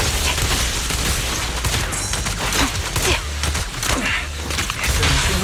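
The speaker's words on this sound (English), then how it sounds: "Watch out for Grim Vulture taking shots from afar." Gunfire from Grim Vulture in Zenless Zone Zero, a dense fusillade of rapid shots and thumps layered over game effects and music, loud and continuous with repeated sharp bursts.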